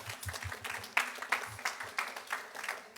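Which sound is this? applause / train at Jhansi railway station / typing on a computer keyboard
applause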